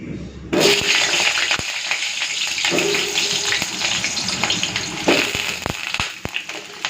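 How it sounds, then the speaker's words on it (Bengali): Potato pieces hit hot oil and fry with a loud, close, continuous sizzle and crackle, punctuated by several sharp clicks and clatters of a utensil stirring in the pan. "এখন এই আলু আর পটলটা ভেজে নেব।"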